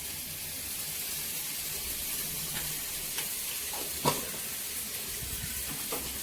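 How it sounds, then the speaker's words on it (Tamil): Steady sizzling of onions and tomatoes sautéing in a pan for drumstick-leaf sambar, with occasional stirring clinks and scrapes, close up and fairly quiet, no talking. "வெங்காயம் தக்காளி நல்லா வதங்கிடுச்சு."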